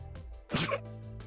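A video game character in Rain Code sneezes once from soot, a sharp close burst of breath rising out of a faint background music bed.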